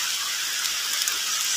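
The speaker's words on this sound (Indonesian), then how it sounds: "langsung hujan deres" Heavy rain pours down during an outdoor fishing trip for belida fish, a dense, steady hiss that fills the whole moment with no voices.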